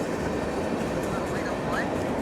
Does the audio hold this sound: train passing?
yes